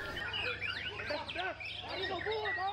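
Songbirds chirp and warble at a bird-singing contest, with rapid overlapping tweets and trills over a low background hum, fairly close and continuous.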